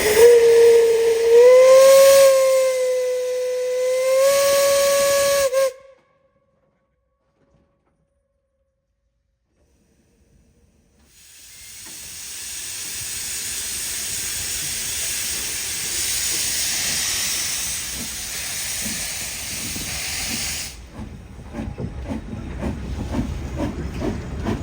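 Steam locomotive at a mining heritage railway station, a loud shrill whistle held for several seconds, then silence, then a long strong hiss of released steam close by, ending in rougher chuffing and clanking noise.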